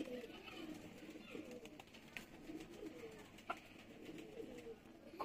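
Pigeons in a loft coo in soft, repeated low throaty calls, several birds overlapping at close range with faint rustles and clicks between them.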